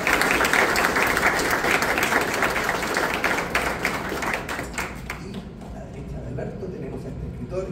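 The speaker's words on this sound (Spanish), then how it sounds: "Un gran aplauso para Berna Laborde." A crowd applauds at the launch of a fantasy novel, with steady, loud clapping that gradually thins and fades toward the end.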